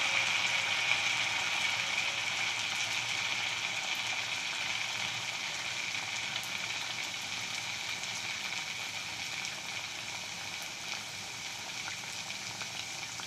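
Jaggery pitha batter fries in hot oil in a wok, giving a loud, close, unbroken sizzle and bubbling that fades only slightly over time, with no voices.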